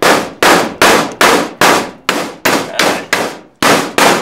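A hammer bangs a dented metal trailer back into shape with about eleven loud, sharp clanging blows in a steady rhythm, each ringing briefly before the next, with no voices.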